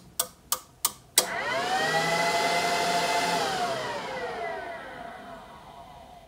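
A Rockford Fosgate Prime R1200.1D amplifier on a dyno test rig: four sharp clicks, then a steady loud whirring hum with gliding tones that slowly fades over several seconds.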